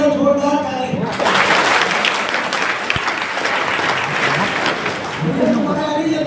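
A crowd at a marketing business meeting in Kukshi, Madhya Pradesh breaks into strong, steady applause for about four seconds, with a man's speech just before and after.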